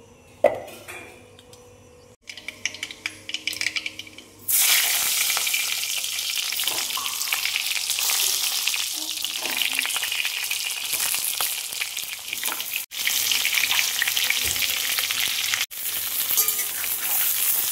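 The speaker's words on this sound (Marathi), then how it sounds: "वांगी चांगली परतून घेऊया।" Stuffed eggplants, bharli vangi, go into hot oil after mustard seeds, first a few clinks and crackles, then a loud sustained sizzle with brief pauses and stirring clatter, close and alone.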